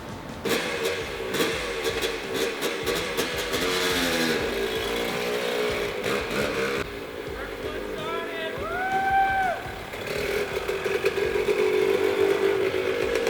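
A cheap used motorcycle engine idles and revs in the open, running continuously with uneven throttle blips and some rattling, while people talk nearby.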